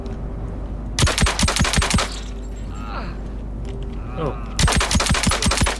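Weapon fire in the space shooter game Star Citizen: two loud bursts of rapid automatic shots separated by a quieter gap, with a brief exclamation from a voice between them.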